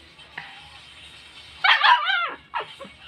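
A pet dog lets out a quick burst of sharp, close barks and yips, pauses, then gives one more short yelp, with faint indoor background and a little talk.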